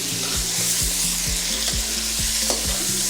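Meat frying with tomatoes, green chillies, red chilli, salt, garam masala and nutmeg-mace powder for chicken biryani, a loud steady sizzle with repeated close stirring scrapes in an even rhythm, no voices.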